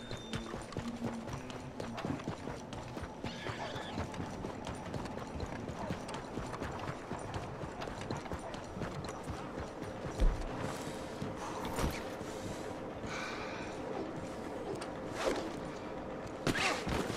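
Horse hooves clop along in the video game Red Dead Redemption 2, a steady rhythmic beat that runs throughout over game ambience, with a few louder thuds along the way.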